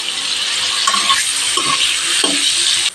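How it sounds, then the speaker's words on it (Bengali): Paneer pieces frying in oil in a pan, a loud bright continuous sizzle close by, with a few soft scraping stirs and clinks of a utensil, no voices. "পনির হালকা লালচে করে ভেজে নিয়েছি, নামিয়ে নেব"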